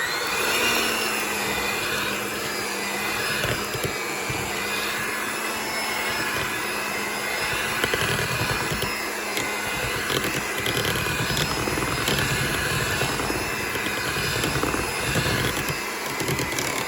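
An electric mixer beats eggs into Basque cheesecake batter, a continuous loud motor whine and hum that holds steady for the whole stretch, close to the microphone with no speech over it.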